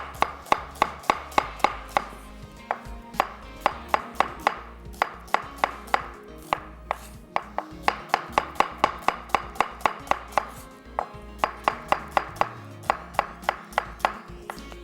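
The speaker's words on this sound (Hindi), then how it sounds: "तकरीबन 2 अदद दरमियाने साइज़ की प्याज लेकर हमने स्लाइस कर लेना है।" Two medium-sized onions sliced on a board for a creamy daal, a rapid, steady run of close knife taps that goes on for about fifteen seconds, with a few brief pauses and no talk.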